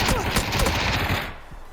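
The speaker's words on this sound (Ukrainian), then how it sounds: "Він стріляє в глайдер." Rapid bursts of gunfire rattle loudly in quick succession, then cut off abruptly.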